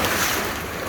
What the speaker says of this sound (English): These waves are coming in, and